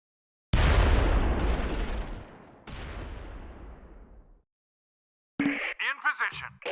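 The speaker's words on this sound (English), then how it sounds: "The mortar fires at the panzer in an effort to make it move." Mortar fire at a panzer in the WWII video game Close Combat 4, Battle of the Bulge at Wiltz: two long, loud booming blasts with a rolling, fading rumble, followed by a short spoken voice.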